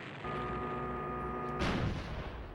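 A cannon fires in Star Fox Adventures: a tonal charging hum builds steadily, then a single sharp blast cuts in and rumbles away, heard alone without talk.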